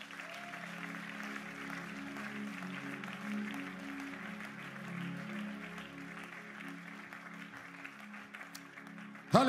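A church congregation applauds, a sustained even wash of clapping at moderate distance, with sung or held tones running underneath and a louder burst at the very end.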